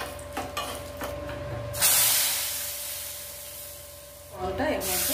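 Hot ghee tempering with dried chilli, fenugreek seeds and Kashmiri chilli powder poured into dahi kadhi, bursting into a sudden loud sizzle that hisses on and slowly fades over a few seconds, with a steady tone behind it.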